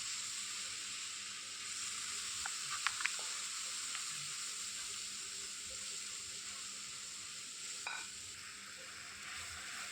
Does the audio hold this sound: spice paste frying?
yes